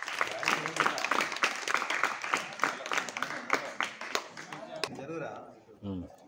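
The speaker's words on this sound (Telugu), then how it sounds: "ఖచ్చితంగా స్పీచ్ తర్వాత అందరూ క్లాప్స్ కొట్టాలి" An audience at a high school National Science Day celebration claps after a student's speech, a dense burst of applause that thins out and fades, with a voice beginning to speak near the end.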